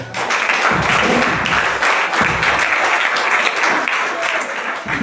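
A church congregation applauding, dense and loud sustained clapping from many hands filling the room, with voices faintly mixed in.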